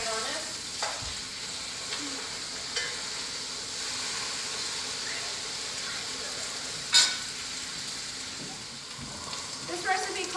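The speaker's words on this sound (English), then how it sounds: "So you can hear that sizzling." Meat browns in a hot pan with a steady, moderate sizzle and light crackle, punctuated by a few sharp utensil clinks and scrapes; a voice speaks briefly over it.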